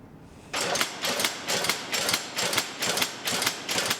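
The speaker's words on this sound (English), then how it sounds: "Oh, the power hammer" A power hammer starts up and pounds in a steady, regular rhythm of about two heavy metallic blows per second, loud and close with nothing else over it.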